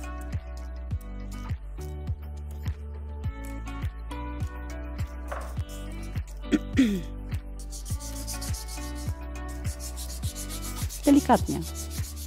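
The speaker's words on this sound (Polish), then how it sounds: "Szlifujemy." Hand sanding of wood at a spring art workshop, heard as a steady run of regular rubbing strokes, close and moderately loud, with a brief soft spoken word.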